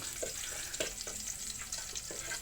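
Garlic sautéing in a pan gives a steady, soft hiss of frying with small intermittent pops and clicks, fairly faint and continuous, with no one talking.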